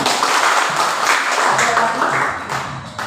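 Classroom students clapping together, a dense burst of applause close by that thins slightly toward the end, with faint voices mixed in.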